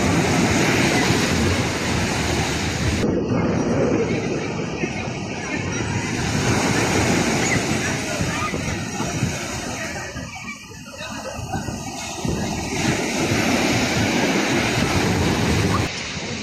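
Sea waves roll in on a beach where fishing boats are launched, giving a loud continuous wash with strong wind rumble. The wash swells and eases over the stretch, with faint voices in the background.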